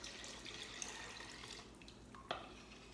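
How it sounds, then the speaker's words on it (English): Water runs from a tap and pours into a vessel of sugared sweet tea for kombucha, a soft continuous splashing at low level with a brief clink near the end. "you're going to want to add your next 4 cups of water to start the cooling process"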